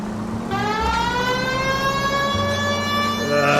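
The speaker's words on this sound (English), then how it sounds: "We have a siren." A police car siren in L.A. Noire wails continuously, its rising and falling tones loud and close, with a low engine rumble underneath.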